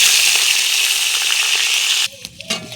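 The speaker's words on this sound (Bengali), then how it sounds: "তেজপাতা আর শুকনো লঙ্কা দিয়ে দেবো।" Bay leaves and dried chillies fry in hot oil in a wok with a loud, steady hissing sizzle that suddenly drops away, leaving quieter clinks and faint sounds.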